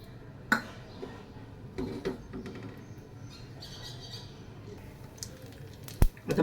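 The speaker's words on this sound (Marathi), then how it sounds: "आता मोहरी आपली तडतडायला लागली." Mustard seeds splutter in hot oil for a tempering while misal is being made. A few sharp, scattered pops and crackles stand out against a quiet kitchen background, with a louder burst near the end.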